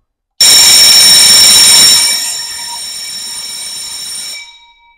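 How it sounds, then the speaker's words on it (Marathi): An automatic school lecture bell rings loudly and steadily for about four seconds, a harsh continuous electric ring that starts abruptly and then fades out. "4 सेकंदसाठी आता बेल वाजेल"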